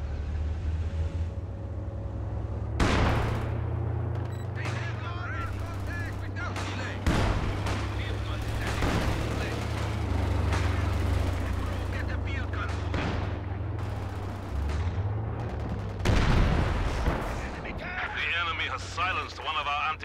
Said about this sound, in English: Tank guns.